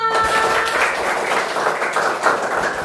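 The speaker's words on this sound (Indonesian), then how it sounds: "tepuk tangan buat kita semua" A classroom of children claps their hands together in a sustained, even burst of applause that fills the room without pause.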